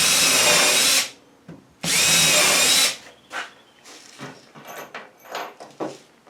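A power drill runs in two loud, close bursts of about a second each during a bench seat repair, followed by quieter scattered knocks and handling sounds.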